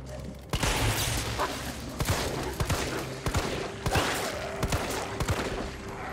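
Rapid gunfire in Resident Evil 3 Remake during a push toward the power substation, a steady run of sharp shots spread over several seconds under an ongoing game soundscape, with a voice speaking at times.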